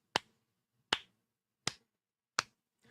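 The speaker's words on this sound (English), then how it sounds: "He does that clap, that slow clap like that." A single person gives a deliberate slow clap: four crisp, close claps at an even, unhurried pace in otherwise near silence.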